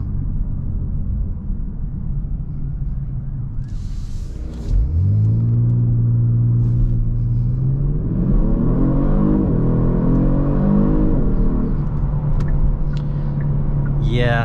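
2022 Genesis G70 rear-wheel-drive car accelerating from inside the cabin, a low idle rumble that jumps after a pause into a rising engine drone, climbing through gears with brief shift drops before settling at a steady cruise hum.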